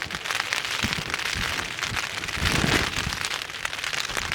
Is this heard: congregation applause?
no